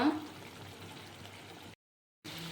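Potato curry with tomato paste water simmers in a covered pan, giving a steady low bubbling hiss that cuts out briefly before resuming.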